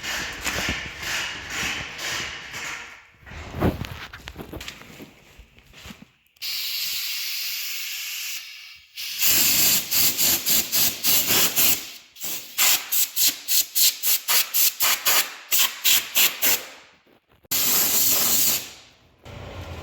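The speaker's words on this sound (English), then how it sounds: "we're gonna grab the air compressor." Compressed air from a shop air compressor blowing off equipment, heard as loud hissing bursts of varying length, some long and steady, others quick rapid pulses, separated by short silences, with no talking.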